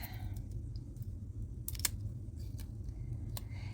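Scissors snipping through paper while making a shaker card with the Kindest Gnomes bundle: a few sharp, close cuts with brief gaps between them over a low background hum.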